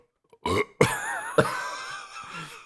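A person lets out a short burp, then a longer, drawn-out croaking burp with a wavering pitch, close and fairly quiet against silence.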